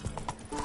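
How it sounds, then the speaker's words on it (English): Horse hooves clip-clopping at a gallop in The Witcher 3: Blood and Wine, with a brief whinny; rhythmic, mid-level hoofbeats in a short burst with slight game ambience. "Run, Roach"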